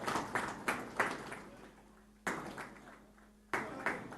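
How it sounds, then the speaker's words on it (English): A ceremony audience applauds in bursts of clapping at a cold chain centre launch at an airport, the claps rising and fading in waves with a few sharp renewed surges, moderately loud in a reverberant hall. "Can we have a round of applause, ladies and gentlemen?"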